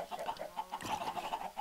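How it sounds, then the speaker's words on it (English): Minecraft chickens gathered around a dispenser cluck faintly in the game, a string of soft repeated clucks in a steady rhythm with a slightly louder burst partway through, heard quietly in the background. "Those are the chickens that feed the dispenser."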